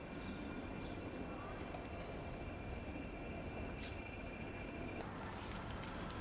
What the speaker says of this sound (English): From the GCR list of locomotives we learn D8048 is a visitor here. Built in 1965 by Brush,